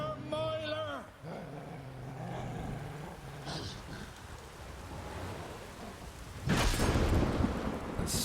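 A rainstorm in The Witcher 3 rumbles with heavy thunder and steady rain, the thunder swelling to a loud crack near the end, while a dog growls and voices speak over the weather early on.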